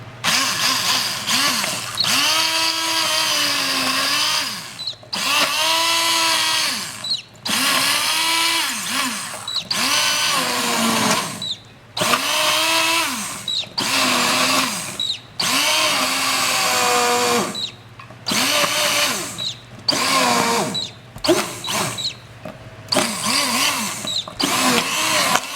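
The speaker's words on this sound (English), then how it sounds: "we got our hand blender, and we're just going to mix it all," A hand blender whirs through a pot of West Indian callaloo in loud, close bursts, its motor pitch rising and falling with each pulse and short gaps between runs, with no talk over it.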